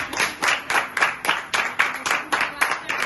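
A church congregation clapping in rhythm, about two claps per second, crisp and close, with a voice heard faintly underneath.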